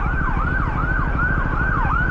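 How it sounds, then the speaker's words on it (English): Ambulance siren at traffic lights, a loud close wailing tone sweeping up and down in a regular cycle over engine rumble, heard alone. "There's an ambulance trying to leave the traffic lights."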